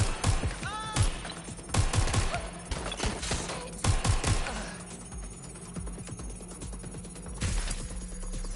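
Gunfire from suspects in Watch Dogs Legion on PS5, with bursts of rapid shots and sharp cracks that come in clusters over the first few seconds, a steady background hum running underneath, and a later burst of shots near the end.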